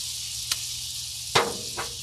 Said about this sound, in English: We're gonna do a full stick of butter on here.